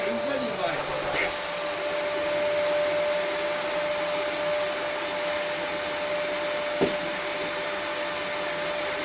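A Dyson vacuum cleaner with weak suction runs steadily close by, a constant high whirring whine with faint knocks and a brief voice in the background.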